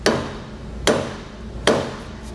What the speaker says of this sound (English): take a dead blow hammer is what I like to use